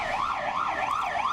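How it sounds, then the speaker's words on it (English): An ambulance siren wails in Madrid, a loud, steady rising-and-falling two-tone sweep repeating about once every half second, close and alone with no talk. "There's an ambulance."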